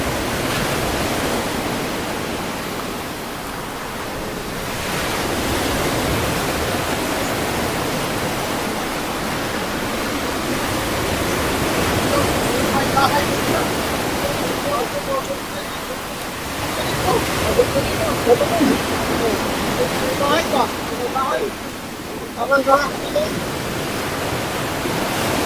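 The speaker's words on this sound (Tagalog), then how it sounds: "Lakas ng alon." Strong ocean waves at high tide on a shore where fishers set up gear, a steady, heavy roar of surf with surging swells, no clear voices over the noise.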